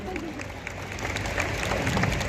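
Applause from a crowd, dense and steady clapping that swells slightly toward the end, with a voice faintly underneath.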